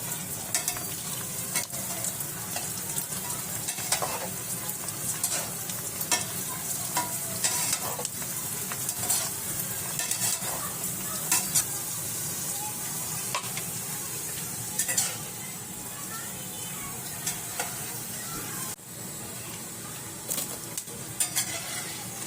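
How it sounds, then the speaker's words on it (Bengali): Fuchka (golgappa) puris fry in hot oil with a steady, close sizzle and bubbling that runs throughout, broken by occasional stirring and light clinks of a utensil against the pan. "গাইস আমাদের তেল গরম হয়ে গিয়েছে, এবার আমরা এর মধ্যে ফুচকাগুলো ছাড়বো।"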